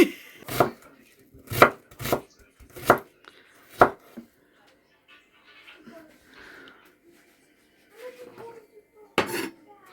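A knife chops on a cutting board in six sharp, evenly spaced strikes, followed by a quieter stretch with faint voice and kitchen sounds, then one final chop.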